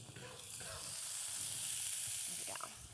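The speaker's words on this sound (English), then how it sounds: "Ooh, we got a sizzle." Food frying in a hot pan gives a steady, close sizzling hiss that holds through the whole moment, with faint stirring or scraping and brief soft speech near the end.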